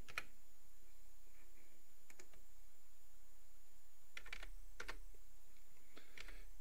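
Soft computer keyboard typing, a few scattered clusters of keystrokes over a faint steady background hum, with no talking.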